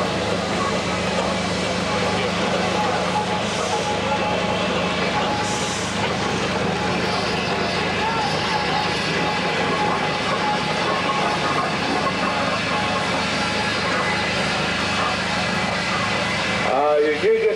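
A big steam ploughing engine pulls away from a steam rally, its steady low mechanical rumble and chuffing filling the scene continuously, with crowd voices mixed in and a brief sharper burst near the end.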